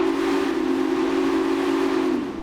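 Steam locomotive whistle from the Railway Empire game, a single sustained loud blast held steady for over two seconds before tapering slightly at the end, no talking.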